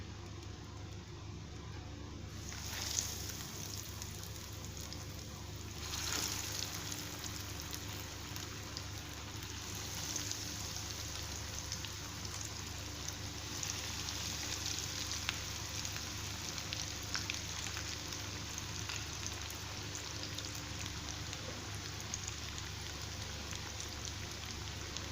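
Cauliflower pieces sizzle steadily in hot oil, a soft, continuous crackling hiss that holds at an even level throughout with no talking over it.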